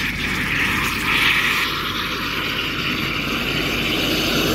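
A high-pressure drain jetter runs at a steady, loud drone close by, a continuous engine-like roar with a faint shift in tone partway through and no talk.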